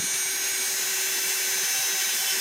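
Micro motor power carving tool running at about 12,000 RPM on wood: a steady, close high-pitched whine with a constant hiss, unbroken throughout.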